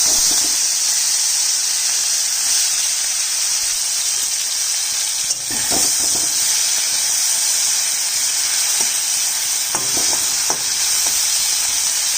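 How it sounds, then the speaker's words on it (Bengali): Shrimp frying in hot oil in a pan, giving a loud, continuous sizzling hiss that stays steady throughout, close up with no speech. "তেল গরম হয়ে গেছে, মাছটা দিয়ে দিচ্ছি।"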